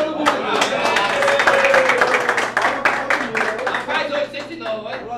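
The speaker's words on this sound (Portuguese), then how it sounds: "E palmas pra todo mundo." A crowd at a debate event breaks into applause. Bursts of clapping run throughout, mixed with loud talking and voices that sit on top of and between the claps.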